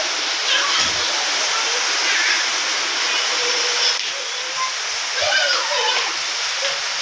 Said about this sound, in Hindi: अब बारिश तेज हो चुकी है।